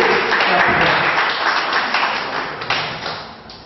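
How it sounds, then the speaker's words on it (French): Audience applause at a health product presentation, a dense continuous wash of hand claps filling the room, loud at first and gradually thinning toward the end. "Applaudissements encore. Tapez."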